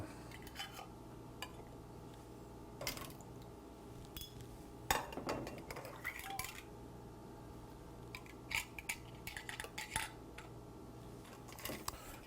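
Metal lids for jars of mayhaw jelly being picked up and handled in a kitchen, giving scattered clinks, taps and scraping rattles at irregular intervals over a steady low hum.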